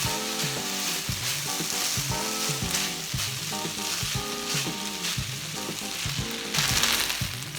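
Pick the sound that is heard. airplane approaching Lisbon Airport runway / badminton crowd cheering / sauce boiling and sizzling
sauce boiling and sizzling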